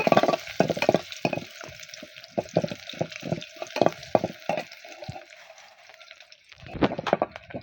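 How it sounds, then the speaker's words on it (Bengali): A small onion sizzles in hot oil, sputtering in a series of sharp, uneven bursts that die down briefly before flaring up again. "তেলটা গরম হয়ে গেছে দিয়ে দিচ্ছি ছোট সাইজের একটা পেঁয়াজ পেঁয়াজটা লাল করে নিব"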